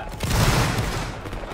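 A ceremonial rifle volley fired on command by a Dutch marine honour guard cracks out as one loud, slightly ragged burst of several shots, then rings off into a short fading echo.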